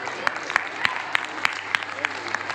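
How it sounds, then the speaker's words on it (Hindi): Audience at a school annual function clapping in a steady, fairly quiet patter, with sharper individual claps standing out at a regular pace over a low background hum. "इनके परिवारों के लिए तालियां हो जाती हैं"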